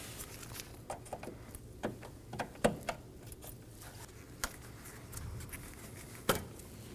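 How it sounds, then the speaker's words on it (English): Fingers work the plastic clip holding the washer fluid reservoir on a 2011 Dodge Durango 5.7L V8, producing a series of faint, close snaps and light clicks spread unevenly over several seconds. "I'm going to undo the clip and set it aside"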